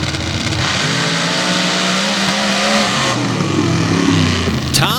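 Drag racing modifieds, a 760 cubic inch Goodwin competition engine against an 828 cubic inch Chevy, roar down the track at a record-setting Transfer, PA event, loud engines rising in pitch as they accelerate hard, with a brief sharp squeal at the end.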